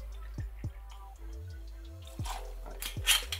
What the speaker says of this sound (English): Starting with 50 milliliters of vodka.